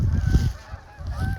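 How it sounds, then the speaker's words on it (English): A flock of geese honks outdoors, several loud close calls overlapping in a rough burst, dropping briefly and then rising again in a second cluster. "all of these geese is saying hello to y'all."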